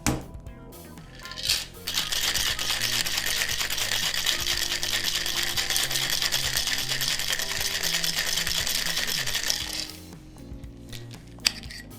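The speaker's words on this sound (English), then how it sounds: "we're going to shake the cocktail for 10 to 12 seconds" A raspberry cocktail is shaken hard with ice in a cocktail shaker for about eight seconds, a dense rapid rattle of ice against metal, starting and stopping abruptly, with quieter handling before and after.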